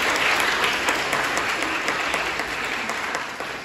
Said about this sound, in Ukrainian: Аплодисменти їм в першу чергу.